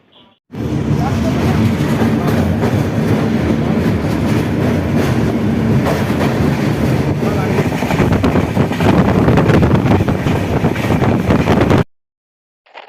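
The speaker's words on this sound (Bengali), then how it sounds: "আর এবার ভুবনেশ্বরের উদ্দেশ্যে ঠিক সময় মতোই আমাদের ট্রেন রওনা হলো।" A passenger train bound for Bhubaneswar runs steadily on the rails after departing, a loud, continuous rumble with rattling wheel noise heard from on board for about eleven seconds before cutting off.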